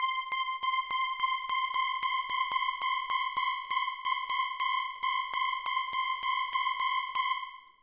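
High-pitched, detuned synth tone from an Elektron Syntakt in a techno track, a bright sustained pad pierced by steady rhythmic ticking pulses, fairly even in level until it fades at the close; no voices.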